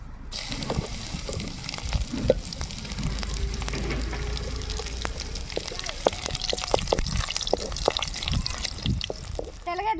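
Green chillies and curry leaves fry in hot oil for a drumstick-leaf stir-fry, giving a steady, close crackling sizzle that runs the full length with small pops and bursts throughout.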